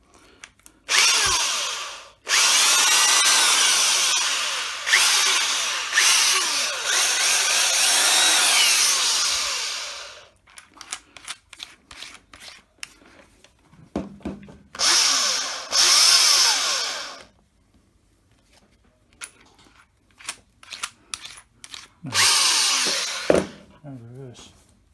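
A repaired, once-trashed Black & Decker 4-speed electric drill runs up loudly in several long bursts, first sustained whine then shorter on-off triggers and brief revs, with quiet pauses between and a little talk.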